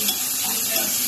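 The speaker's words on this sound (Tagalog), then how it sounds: "Sutay muna natin yung bawang. Then, maglalagay pa ako yung sibuyas." Garlic, then onion, sautéing over low heat in a pan as Arroz Valenciana is cooked: a steady, close, even sizzle with a faint hiss throughout.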